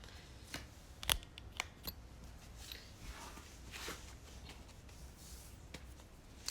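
Tarot cards are shuffled by hand, giving quiet, close riffles and soft snaps scattered over several seconds against a low, hushed background.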